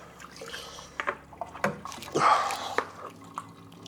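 Sterilizing liquid is swished around inside a funnel for mead making, producing close sloshing and dripping splashes in irregular bursts, loudest near the middle.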